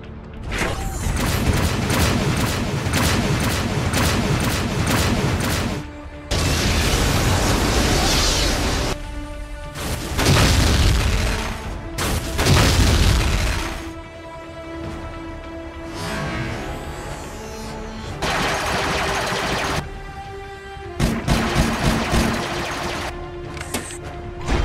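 Animated Transformers battle sequence with bursts of heavy weapon fire, booms and crashes, separated by brief lulls and dense mechanical clatter, loud throughout with no clear talk.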